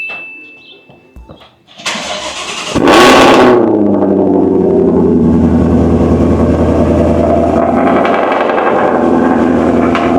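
A Shelby car's engine catches after a brief start-up, then roars loud and sustained close by, with a steady deep rumble as it revs while driving.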